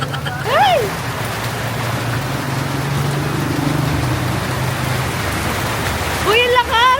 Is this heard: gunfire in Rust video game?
no